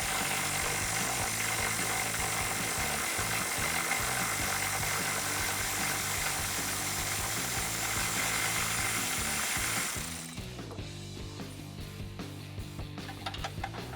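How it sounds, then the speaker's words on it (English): An electric ratchet with an 18mm socket spins out front bumper bolts on a Jeep Wrangler JL, a continuous high buzzing whir for about ten seconds that stops abruptly, followed by a few faint clicks. "I'm going to take that 18mm socket again with my electric ratchet, and we can go ahead and remove those"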